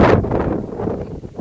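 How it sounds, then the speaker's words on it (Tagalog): Strong wind buffets the microphone on rolling hills in Apayao, a loud roaring gust that peaks at the start and then keeps blustering unevenly. "Ang lakas ng hangin."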